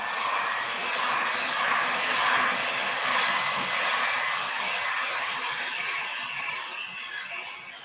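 A hair dryer blows steadily at close range over a painted portrait, a continuous loud airy whoosh that holds level for the whole stretch and eases off slightly near the end.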